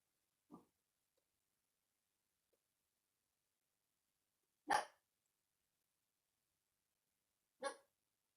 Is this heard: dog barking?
yes